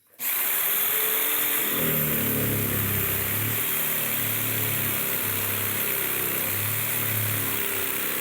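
A small wood saw blade on a power tool whirs loudly and steadily, starting abruptly and holding a constant high-pitched drone with slight wavering in pitch throughout, with no talking.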